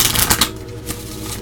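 Tarot cards shuffled for a reading, a quick close riffle of cards followed by a second softer flick, brief and dry with no talking.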